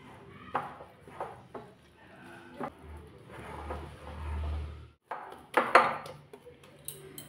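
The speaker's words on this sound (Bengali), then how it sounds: "ভালো করে এটা জল দিয়ে মেখে নেব।" Spinach paratha dough, with chopped spinach, coriander and gram flour, is kneaded with water by hand in a bowl, giving soft squelching presses and occasional clinks against the dish, close and quiet, with no talk.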